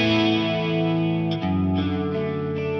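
An electric guitar plays through a cheap effects unit set to a thick 90s grunge distortion, letting one sustained, buzzing chord ring for a few seconds with a brief dip in the middle, with no voices.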